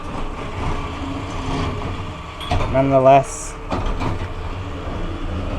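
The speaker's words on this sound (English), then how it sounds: "I'm going to talk really loud because the garbage truck" A garbage truck runs outside, its low, steady engine rumble sitting beneath a person talking nearby.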